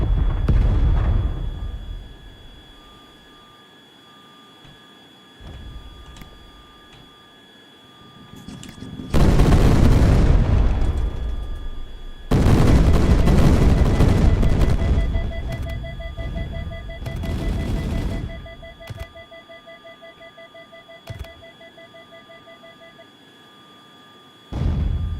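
Cluster bombs burst in Tiny Combat Arena, a flight combat game: a heavy, sustained run of loud rumbling explosions in two main waves, then a third shorter burst, over a steady engine drone with faint tones.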